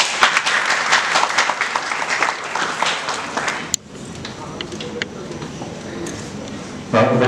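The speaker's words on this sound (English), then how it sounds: "Huge round of applause, everyone." An audience at a law school valedictory ceremony claps steadily for a few seconds, then the applause fades out and the room quiets to low background murmur.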